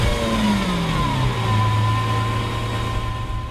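A 2017 Lamborghini Aventador SV Roadster engine comes to life and settles, its pitch sliding down from a high rev into a steady, loud idle, heard up close with no talking.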